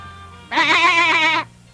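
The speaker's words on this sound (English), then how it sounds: "There's a goat in the middle of the sea, but its hair is all blue" A cartoon goat with blue hair bleats once, a loud, wavering bleat about a second long that stands alone over a faint music bed.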